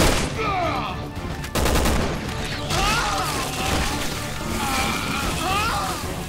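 Resident Evil 6 gameplay carries heavy sniper rifle gunfire amid a dense, loud battle mix. Sharp blasts land in quick succession and combine with booming effects and background noise. There is no clear talking over it.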